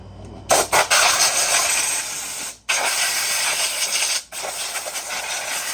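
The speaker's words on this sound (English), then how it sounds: "I will, however, have to give it a bath with the air hose." Compressed air hose blasting dirt off a Huskee 22-ton log splitter, a loud steady hiss in long bursts with two brief pauses where the valve closes, no talking.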